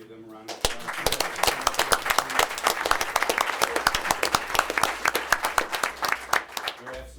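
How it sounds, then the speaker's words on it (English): Applause at a board of education meeting for students' parents, a dense burst of many hands clapping that starts sharply, holds steady for several seconds and thins out into scattered claps near the end. "Give them a round of applause."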